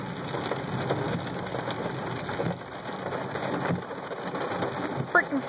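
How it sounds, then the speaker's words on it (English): Heavy rain pours down hard outside, a dense continuous hiss of drops drumming on surfaces with occasional sharper splashes. "You can barely see it right now because it's raining that hard."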